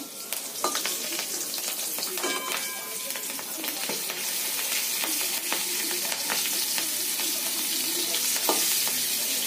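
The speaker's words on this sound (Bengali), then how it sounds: "এবার এই তেলের মধ্যে লঙ্কাও একটু ভেজে নেব আমরা" Green chilies frying in hot oil for a Bengali tengra fish curry, giving a steady dense sizzle with crackles and occasional stirring scrapes throughout, close and fairly loud, with no talking.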